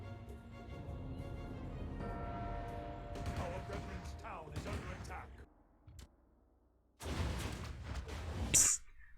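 Warcraft III base under attack during a 2v2 match on the Gnoll Wood map, with clashing combat effects, impacts and crashes in loud bursts, a brief lull, then another heavy burst of fighting.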